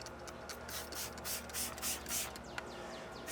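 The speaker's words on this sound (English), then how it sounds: "And then spray your tire cleaner." Tire cleaner sprayed onto the wheels of a Porsche 718 GT4 in repeated short hissing bursts, faint and close, mixed with rubbing and scrubbing noises.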